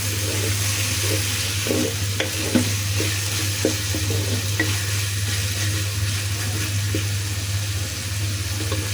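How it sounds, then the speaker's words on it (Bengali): Pointed gourd peels fry for bharta, a steady loud sizzle with occasional stirring scrapes and clicks from the pan, without any talk. "এভাবে একটু ভেজে ভর্তা করবেন, এই ভর্তাটা নষ্ট হবে না।"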